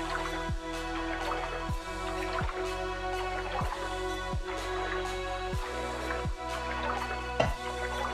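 Water drips steadily inside the video game Refunct, a regular run of clear plinks about once per second over a sustained bed of ambient music, with no talking.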